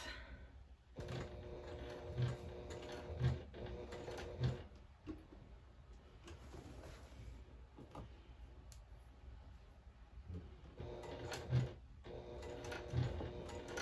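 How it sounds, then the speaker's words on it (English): A sewing machine runs slowly through thick tote bag fabric at a stitch length of 4.5, in a steady mechanical whir with a few louder thumps, pausing briefly midway before picking up again. "So I'm just going to go ahead and sew."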